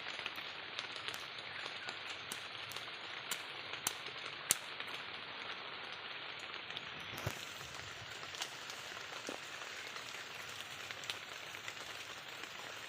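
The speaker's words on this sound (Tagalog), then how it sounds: "Umuulan." Steady rain hisses across the whole clip, with scattered sharp drips and taps standing out over the dense, even patter.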